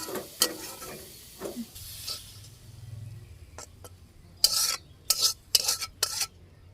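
Leafy greens (shak bhaji) frying in a pan, faint sizzle under intermittent spatula stirs, ending in a burst of sharp scraping strokes against the pan.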